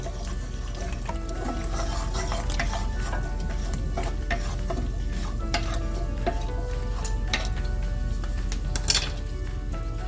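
Whole peppercorns tumbling into a hot pan for a pork masala, with a steady close sizzle of frying and scraping stirs, light clinks of a utensil against the pan throughout.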